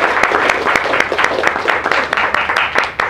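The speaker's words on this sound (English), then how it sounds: "let's applaud to whatever feelings you have about that" Audience applause at a live team event, steady dense clapping from a crowd filling the whole stretch with no pauses, fairly loud and close, with no speech over it.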